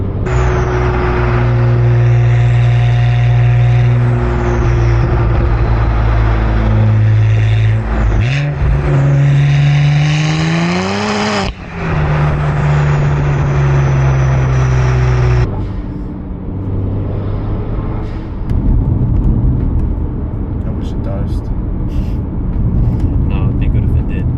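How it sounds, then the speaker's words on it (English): A 2009 BMW 135i twin-turbo engine revs and drones loudly nearby, pitch rising and falling through several throttle changes, with turbo whine and hiss layered over the engine note. "Twin turbos make an interesting noise though"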